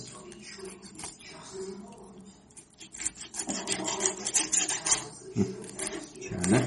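A knife rasps and scrapes through a scorpionfish as it is cut and cleaned, with steady rubbing strokes that grow louder and busier toward the end, close up, with a few brief spoken words.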